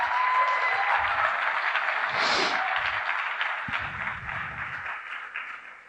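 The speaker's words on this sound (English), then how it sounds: "let's give a big round of applause" Steady, dense applause from a conference audience fills the room throughout, with a brief swell of cheering midway and a slow fade toward the end.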